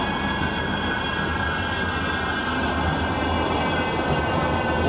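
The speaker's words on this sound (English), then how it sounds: "Tram going, Metrolink tram going through." A Manchester Metrolink tram rolls past along a street with a steady rumbling drone and faint high metallic whine, continuous and fairly close, with no voices.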